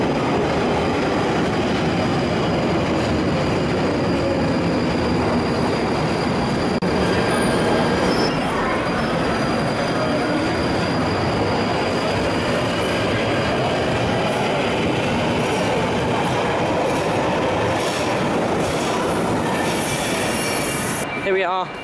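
At a London Euston station platform, a train to Manchester Piccadilly moves with a steady, loud rumble of wheels and high squealing from rails and brakes. The sound is continuous and close for the whole stretch, with no speech over it.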